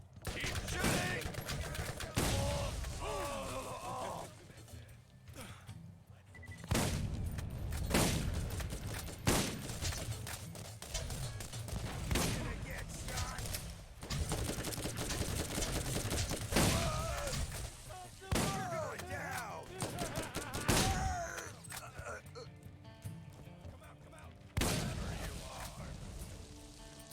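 Gunfire in the video game Borderlands 1: rapid volleys and bursts of shots nearly nonstop, with booms and effects layered on top and brief lulls between.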